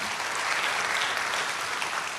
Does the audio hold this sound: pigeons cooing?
no